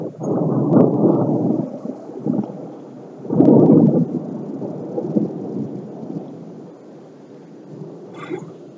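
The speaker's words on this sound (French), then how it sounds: "Vous voyez le genre d'éclair que je subis là?" Thunder from a violent thunderstorm rolls and rumbles in long low bursts, loudest near the start and again mid-way, then fading into a softer distant grumble with a faint chirp at the end.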